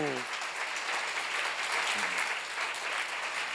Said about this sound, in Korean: 1억 드리고 박수 좀 쳐요.